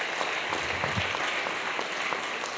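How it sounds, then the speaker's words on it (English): Lecture audience claps for a professor after his talk, a steady wash of moderately distant applause with no voices over it. "A round of applause for Professor PLO Lumumba"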